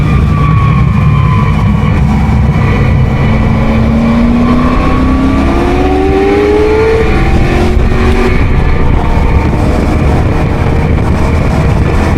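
V8 race cars roar around a wet Donington Park circuit, loud and continuous, engines rising and falling in pitch as they pass and accelerate close by.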